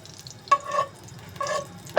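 Two opened green cardamom pods dropped into hot ghee in a pot, giving two short, close sizzling bursts over a quiet background.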